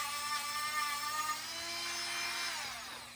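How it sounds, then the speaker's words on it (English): A Phalanx rotary Dremel-type tool spins at high speed during front brake work on a 2007-2012 Dodge Nitro, a thin, steady high-pitched whine that is faint and brief. "This Dremel tool I'm liking more than the Dremel brand, the Phalanx automotive products"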